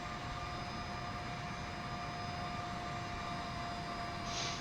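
A-10A attack jet in flight inside a flight simulator game, heard as a steady, loud broadband engine roar with a faint constant whine, unbroken for the whole stretch with no voices.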